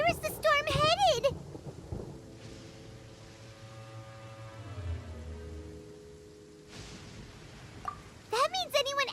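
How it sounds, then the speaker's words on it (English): Thunder from a storm in the video game Genshin Impact rolls as a low, drawn-out rumble through the middle, with character voices speaking before and after it. "Paimon hears thunder!"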